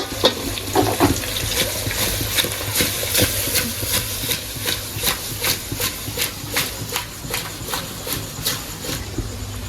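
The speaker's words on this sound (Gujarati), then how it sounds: "હવે આમને હલાવી નાખીશું આપણે" Gujarati patra being stirred in a hot pan, giving a steady hissing sizzle broken by quick scraping and clinking strokes that repeat through the stretch, close and fairly loud, with no talking.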